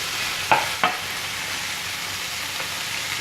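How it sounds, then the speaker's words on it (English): Pork and shiitake mushrooms sizzle steadily in a hot pan, and two sharp clanks of a utensil stirring them sound early on over the constant fry. "Keep cooking that pork and those shiitake mushrooms"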